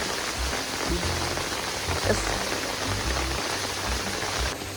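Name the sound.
heavy rain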